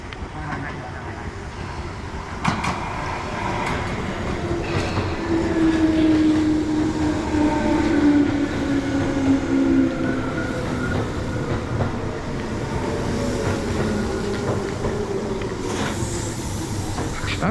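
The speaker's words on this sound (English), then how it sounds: "That's actually the train going out to Chichibu." A two-car train bound for Chichibu, Japan, rumbles and squeals as it pulls out of a station at night, with a rising metallic whine and occasional clacks, steady and moderately near throughout.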